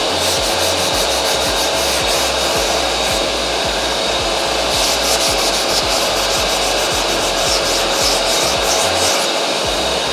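Hand block sanding of sprayed polyester filler on a 1971 Camaro body, a steady loud abrasive rasping that runs continuously throughout with rhythmic back-and-forth strokes.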